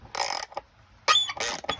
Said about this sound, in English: gear wrench that I'm using right here to undo this band